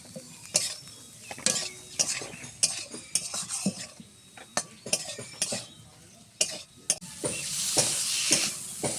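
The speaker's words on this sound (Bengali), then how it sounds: "এবার এর মধ্যে আলু দিয়েও খুব ভালোভাবে কষিয়ে নেব" Potatoes being stirred into spice masala in a pan, with a spoon scraping and clinking against the metal and a light sizzle underneath, irregular and close, a soft voice briefly audible.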